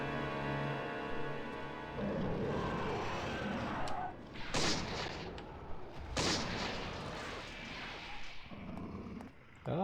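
Gunfire from equipped guns in the Eternal Darkness video game, two loud sharp bursts with a growling creature and crashing game sounds around them, no talk over it.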